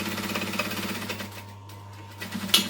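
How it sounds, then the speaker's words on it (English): A sewing machine back stitching on a decorative stitch length while making a snap-it-up fabric bowl, a steady close mechanical whirring with rapid needle chatter that briefly eases off before resuming. "we are going to back stitch, and I'm sticking with my decorative stitch length"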